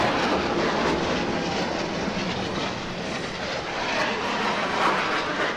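Blue Angels jets 5 and 6 at the 2013 Seattle Seafair air show make a loud, steady, broadband roar as they pass overhead, holding full strength for several seconds without letting up.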